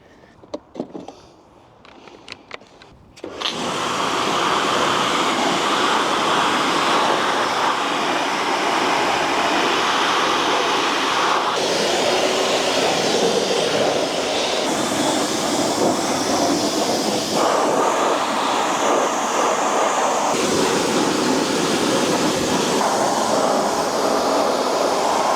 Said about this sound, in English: a quick jet wash with some nice clean soap